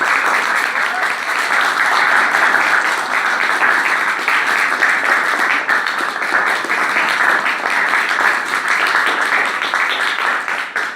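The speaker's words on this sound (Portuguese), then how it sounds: "Uma salva de palmas" An audience applauding at a school event at Escola Madre Assunta, a loud, sustained, dense round of clapping that carries on evenly for about eleven seconds.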